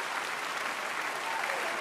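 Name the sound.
audience applause after violin performance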